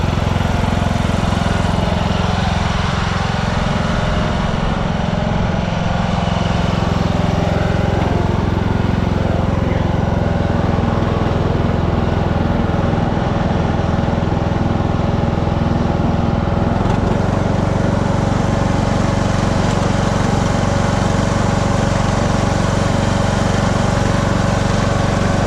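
A Cub Cadet XT1 riding lawn tractor drives steadily with its engine droning loud and close, a constant unbroken roar with no talk over it.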